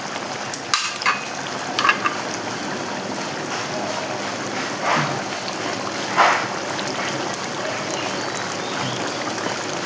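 Ghee sizzles steadily in a pan while an egg and potato curry is cooked, a continuous close frying hiss broken by a few soft clinks and stirring bumps, with no talking.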